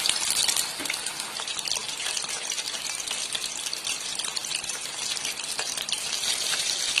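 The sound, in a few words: chicken lollipops frying in oil on both sides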